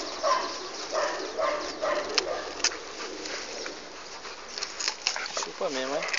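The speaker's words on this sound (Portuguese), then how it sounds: "É o cão chupando cana." A dog chewing and tearing at a hard stalk of sugarcane makes close, irregular crunching and splintering clicks throughout, with a short rising whine-like voiced sound near the end.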